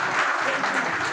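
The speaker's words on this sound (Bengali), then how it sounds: "একটু জোরে হাততালি।" Audience clapping in unison at a hospital event honouring Kumartuli idol makers, a brief, dense burst of applause from a crowd at moderate distance.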